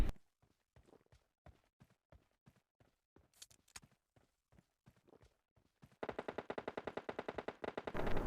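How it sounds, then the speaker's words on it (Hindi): Gunfire in PUBG Mobile Lite, heard as scattered distant single shots in an irregular rhythm, then a dense, louder burst of rapid automatic fire toward the end. "यहाँ पे गन साउंड आ रहे थे 2-2 3-3 टीमों के"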